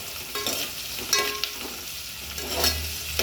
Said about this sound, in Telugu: ఉల్లిగడ్డ ఇట్లా బ్రౌన్ కలర్ వచ్చేదాకా వేగనియాలన్నమాట